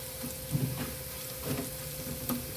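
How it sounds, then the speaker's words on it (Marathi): Sliced onions fry in hot oil for a dal handi, a steady soft sizzle with a few gentle stirring scrapes and pops, close and moderately quiet, with no talking. "हे बघा मी कांदा छान तळून घेत आहे"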